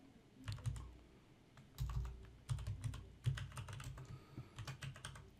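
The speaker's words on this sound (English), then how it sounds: "So we'll type in chocolate bar." Rapid typing on a computer keyboard, the clatter coming in uneven bursts of keystrokes with short pauses between them, close up and with no voices.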